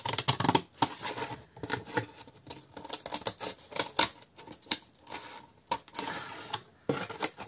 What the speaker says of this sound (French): je prends un grand ciseau et je viens découper